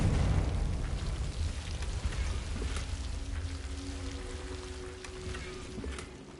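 A Confringo fire spell from Hogwarts Legacy goes off as a fiery blast, followed by a crackling, rushing burst that fades away over a few seconds.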